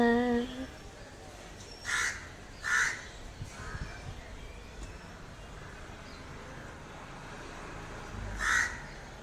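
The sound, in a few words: crow cawing while gathering food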